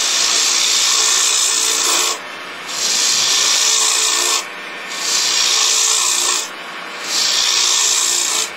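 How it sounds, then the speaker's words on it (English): A wood gouge cuts into a wooden bowl on a lathe, shaped from a log. It gives a loud, rough scraping hiss in four long passes with brief pauses between them. "we can use the bottom of the gouge. We're actually cutting with this bottom edge."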